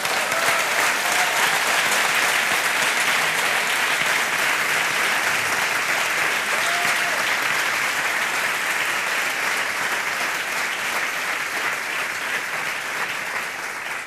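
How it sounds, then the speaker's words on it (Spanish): Congregation applause at a church service, a dense steady roar of many hands clapping for the full length, loud and close, fading slightly toward the end. "Dale un aplauso al Señor."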